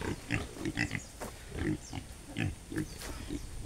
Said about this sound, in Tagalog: Yan ang mga nauna nating biik.